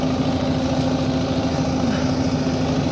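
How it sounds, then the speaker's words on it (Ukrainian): A tractor engine runs steadily in a field during ploughing, a constant low droning hum with a strong tonal note, moderately loud and unbroken throughout, with no talking over it. "Так що там он трактор робить."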